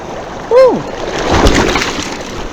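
A person tumbles into a river while float fishing for salmon and steelhead, making a sudden loud splash and slosh of water, followed by rushing current and brief wet rustling near the microphone.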